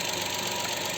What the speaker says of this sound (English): I will let you to hear the voice of engine